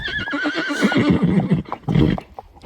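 Several horses at a livery yard neigh and whinny in answer to one another, the calls rising and falling over about two seconds, fairly close and loud, with no talking.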